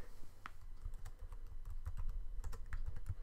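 Fingers type a virtual machine name on a computer keyboard in quick, uneven runs of close clicking keystrokes over a low hum, with no talking.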